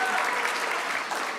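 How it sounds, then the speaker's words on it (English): An audience applauds volunteers. The clapping is a brief, dense, steady burst with voices mixed in. "Can we get a round of applause for our volunteers?"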